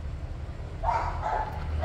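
A large young male pit bull lets out a few short, deep barks and yips at close range over low outdoor rumble.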